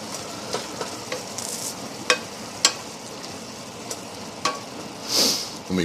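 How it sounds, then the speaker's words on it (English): Cheap Marsala wine sizzles in a hot pan as the alcohol cooks off, a continuous bright hiss broken by sharp utensil scrapes and taps at irregular intervals, with a louder burst of sizzling near the end. "Let me burn off the alcohol"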